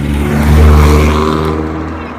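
Loud street traffic in Jamaica: a vehicle engine drones close by and swells past, a heavy steady roar that eases off toward the end, with a voice partly mixed in.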